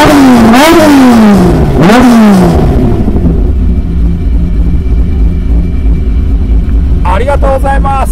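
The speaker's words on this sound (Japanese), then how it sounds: "マフラーの音も聞かせていただきましょう" A red Nissan Skyline Hakosuka with a TC24 engine revs hard through its exhaust, two sharp rising blips that drop back, then a steady loud idle rumble. A brief voice cuts in near the end.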